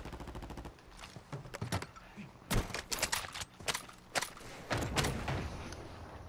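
Gunfire in a Call of Duty Warzone Plunder match, with a cluster of close, sharp shots and short bursts following a quieter opening, and no talking.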